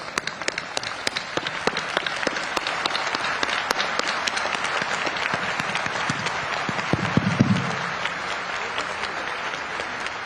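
A large audience gives a standing ovation at the inauguration of the Surat Diamond Bourse in Gujarat: dense, sustained applause with steady clapping throughout, loud and close, with no talking.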